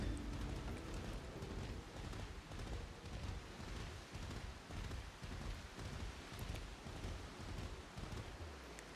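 Steady rain pours down in the video game Final Fantasy XIV, a dense continuous patter with low rumbling gusts, fairly loud and unbroken throughout with no voices.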